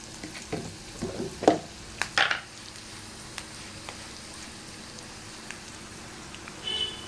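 Onions fry lightly in a pan, giving a soft steady sizzle with a few sharp crackles and scrapes near the start, then a quieter even hiss.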